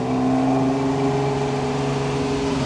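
A Ferrari 250 GTO engine drones steadily while cruising, a smooth, continuous mid-pitched hum with a faint whine on top, holding an even level throughout.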